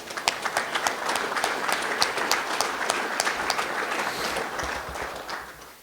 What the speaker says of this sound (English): If we could just give them a big round of applause.